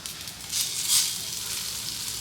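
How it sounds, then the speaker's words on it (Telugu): Fish frying in a pan with onion paste, giving a continuous close hiss and sizzle with a slight swell partway through, steady and alone. "కొద్దిగా పెనంలోనే అలా ఫ్రై చేయాలి"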